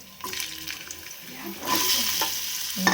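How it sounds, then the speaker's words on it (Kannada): Eggs and potatoes go into hot oil in a pan, giving a rising hiss and sizzle with some splashy clatter, close and moderately loud. "ಇಲ್ಲಿ ಹಾಕಿಬಿಟ್ಟು ಇದು ಗೋಲ್ಡನ್ ಬ್ರೌನ್ ಬರೋವರೆಗೂ ನೀಟಾಗಿ ಫ್ರೈ ಮಾಡ್ಕೋಬೇಕು"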